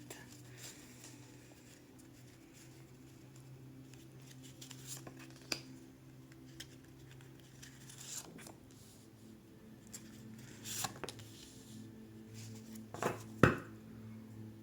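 A brand-new tarot deck being shuffled by hand, the stiff cards giving soft scattered rustles and flicks with a few sharper snaps near the end, close and quiet with no talk.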